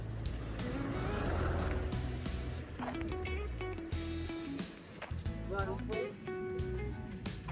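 Cars and other vehicles on a highway toward Ranuja, engines droning and rising as they pass one after another, fairly distant and steady, with people talking nearby underneath.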